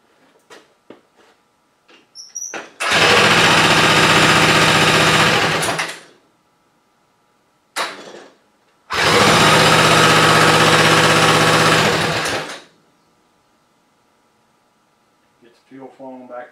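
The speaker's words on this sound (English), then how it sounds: "Hopefully my starter box still has enough power in it." A modified Predator 212 small engine is cranked with a starter box in two loud bursts, each whirring for about three seconds, with brief clicks and quiet gaps between and around them.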